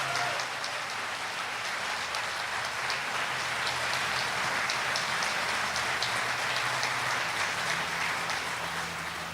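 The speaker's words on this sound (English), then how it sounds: "let's give our incredible governor a round of applause" A round of applause for Texas Governor Greg Abbott at a UT Tyler groundbreaking ceremony: continuous, even clapping from a crowd that holds steady throughout with no voices.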